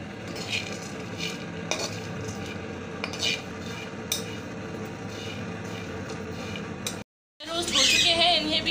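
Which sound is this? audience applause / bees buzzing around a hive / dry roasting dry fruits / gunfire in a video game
dry roasting dry fruits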